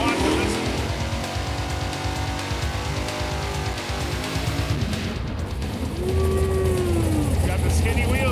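A 1984 Chevy Camaro with skinny front wheels does a burnout, its engine roaring loud and steady for the whole stretch, with a faint tire squeal and voices talking over it.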